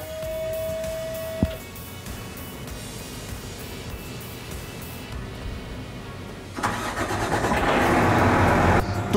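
A Rostselmash RSM 370 tractor engine starting up. It cranks briefly, then settles into a steady mid-pitched idle, and a louder, brighter surge rises near the end.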